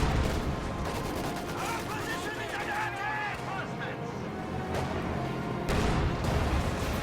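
Rapid Maxim machine gun bursts rattle through a World War II strategy battle alongside scattered distant gunfire and explosions, while someone talks over the fighting.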